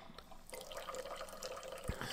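Warm water runs from a kitchen tap for baking bread, a soft, quiet splashing flow that starts after a brief pause and continues evenly, with a small drip or knock near the end.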